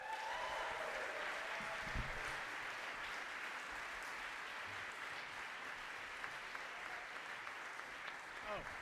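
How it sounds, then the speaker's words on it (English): An audience gives sustained applause for a performer at a live show, a dense, even wash of clapping that continues for several seconds at moderate distance, with a brief voice near the start. "I want everybody to give her a big round of applause for Miss Tatiana Mayfield."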